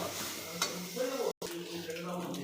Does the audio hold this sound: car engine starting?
no